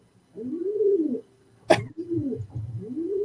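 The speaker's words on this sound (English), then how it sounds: "I'm in New York, and it could be you have really loud pigeons." Pigeons cooing outside in New York, with repeated soft, throaty rolling coos close by and a sharp brief noise cutting in midway.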